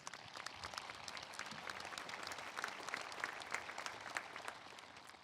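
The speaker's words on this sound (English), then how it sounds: "Please give them a round of applause." Audience applause at a high school graduation ceremony, a steady wash of many hands clapping at moderate distance with no speech over it, holding fairly even for several seconds.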